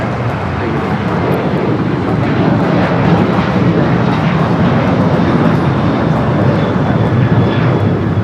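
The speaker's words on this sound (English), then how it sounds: "Just had that China Airlines cargo 777 and touching down here on the south side." A China Airlines cargo Boeing 777 touches down on the south side of LAX, a steady broad jet roar holding loud and even for several seconds with no voices over it.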